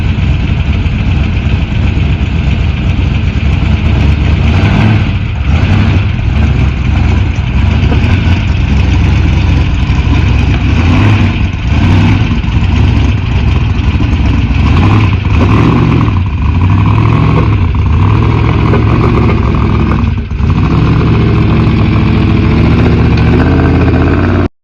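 A Jeep Scrambler engine runs steadily in a shop, a loud, continuous idle with a deep low rumble and occasional light blips of throttle throughout, with no talking.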